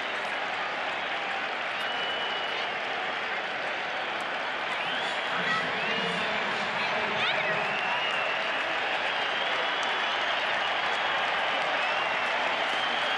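Opening day baseball crowd at a Phillies home game against the A's, a steady roar of cheering and clapping filling the stadium, with the crowd rising as a batter steps in; broadcast commentary runs over it.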